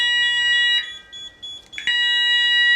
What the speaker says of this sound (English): Notice the alarm beacon activating there.